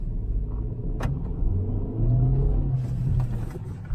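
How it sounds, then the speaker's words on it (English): Hyundai Grand i10 Nios petrol automatic engine revving inside the car, a steady low rumble that swells as the revs rise, heard close from the cabin with no talking. "revving the motor and dumping the clutch"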